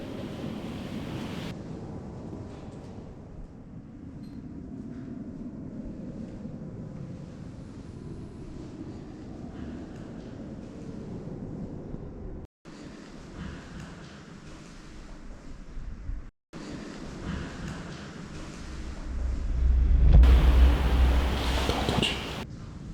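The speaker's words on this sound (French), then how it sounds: "des fois, ce serait peut-être pas paranormal, juste le vent." Steady wind rushes through the open windows of an old house on an estate, a broad continuous roar that swells louder near the end, with no talk.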